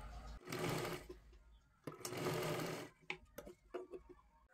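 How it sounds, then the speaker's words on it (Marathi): Sewing machine stitching a katori blouse, running in two steady bursts of about a second each with quieter handling and fabric rustling between them, close up and alone. "असं फोल्ड करायचं आहे आणि शिलाई मारून घ्यायची आहे"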